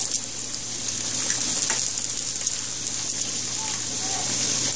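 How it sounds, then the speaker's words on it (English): Four eggs sizzle in a waffle machine with a continuous bright, close hiss and faint crackling, steady throughout with a low electrical hum beneath. "put the eggs in the waffle machine"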